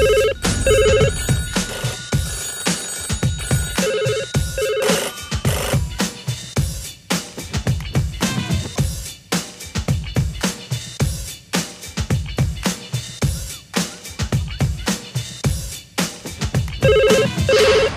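A telephone bell rings in short repeated bursts within a Danish radio station ID jingle for Station København, mixed over loud rhythmic music with punchy beats, with the ring recurring at the start and near the end.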